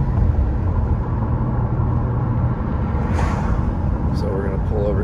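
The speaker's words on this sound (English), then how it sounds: "We got a car speeding up on us." A Cadillac approaches from behind on a mountain road near Big Bear after a storm, its rising road rumble blending into the steady engine and tire noise of the car being driven, with people talking over it.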